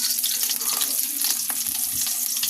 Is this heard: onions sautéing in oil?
yes